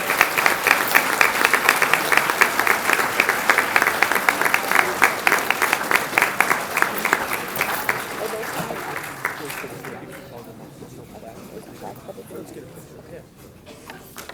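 Audience applause at a middle school eighth grade recognition program, honoring National Junior Honor Society inductees: dense, sustained clapping fills the room for about ten seconds, then fades out into quiet murmuring.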